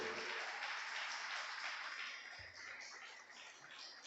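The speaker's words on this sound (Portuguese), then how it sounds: "Dá um aplauso a Deus aí, querido." A church congregation applauds during a worship service, a dense, steady wash of clapping that fills the space and eases slightly toward the end.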